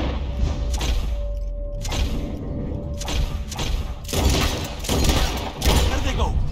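Gunfire in Red Dead Redemption 2 as players shoot at flying birds: a rapid volley of heavy booming shots and thuds in overlapping bursts, loud and close, with voices talking over it.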